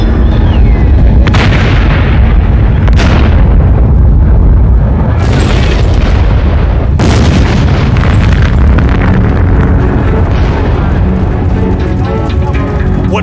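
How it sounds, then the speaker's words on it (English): Chemical barrels exploding one after another inside a collapsing, burning building at night, several heavy booming blasts spaced a few seconds apart over a constant roar of fire, loud and close. "one by one, the barrels start to explode."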